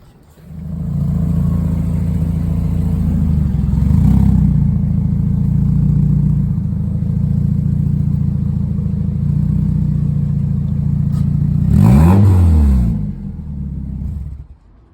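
A Mazda Miata with a new exhaust idles low and throaty after starting, holding a steady rumble with a slight swell, then blips into a quick rev near the end before settling and cutting off; loud and close, no talk.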